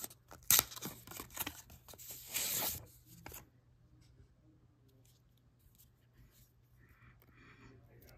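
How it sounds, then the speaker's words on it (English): A new GoPro is pulled from its packaging with close crinkling, tearing and rustling bursts for about three seconds, followed by quiet, faint handling noises. "Now let's take it out of its wrapping."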